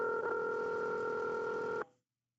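A telephone rings on a call, heard as one steady electronic tone that holds for almost two seconds, then cuts off sharply into silence.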